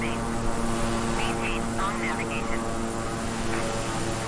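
A Beechcraft 350i King Air's turboprop engines throttle back in Microsoft Flight Simulator, giving a steady droning engine hum. A person talks over the engine noise.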